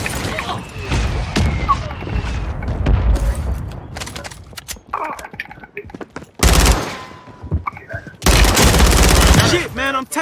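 Gunfire in Warzone, a shooter video game, comes as rapid bursts of automatic shots. The loud volleys hit hardest near the end, and voices talk over the fire.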